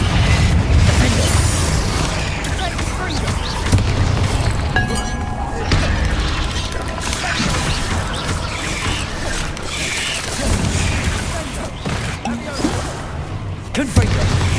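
Repeated Confringo fire-blast spells in Hogwarts Legacy, a series of booms, crashes and shattering bursts during busy combat, with voices talking over the action.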